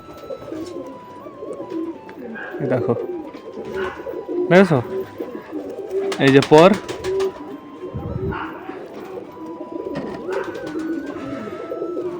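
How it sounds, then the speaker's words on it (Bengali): A market-bought pigeon coos at close range in soft, repeated throaty bursts, while someone talks over and between the calls. "দেখো পায়রাটার কোয়ালিটিটা দেখো আর কেমন হবে"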